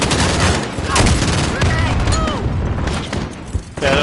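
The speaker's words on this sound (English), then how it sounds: "Yeah, that was my grenade, I think." Grenade blast and sustained gunfire in a Modern Warfare battle, heavy rapid shots rattling throughout with a dull boom in the mix, while voices shout and talk over the combat.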